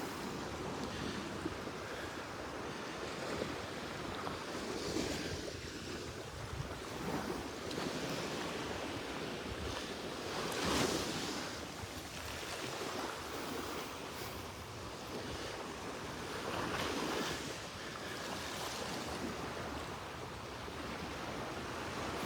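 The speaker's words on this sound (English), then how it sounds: "Oh, the waves just shoved it around there." Ocean surf washes steadily onto the beach at Delnor-Wiggins Pass State Park, a continuous broadband rush that swells in several louder breaking surges, with some wind noise across the microphone and no talking.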